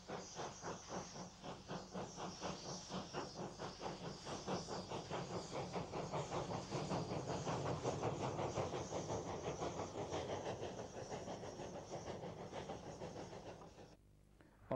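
Steam locomotive Blue Peter pulls away from Carlisle on a special train, its exhaust beating in rapid rhythmic chuffs that quicken and swell with steam hiss before fading near the end.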